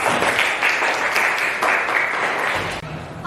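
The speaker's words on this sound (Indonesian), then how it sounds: "tepuk tangan dong untuk Salsa" A class applauds Salsa in a university accounting lesson, with dense, loud, close clapping from many hands that fades out near the end.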